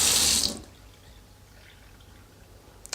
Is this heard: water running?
yes